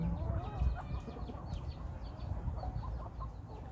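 A hen of a Thai chicken cross clucks in a garden at Di Linh, short scattered clucks and chirps up close over a low rustling background, with no voices.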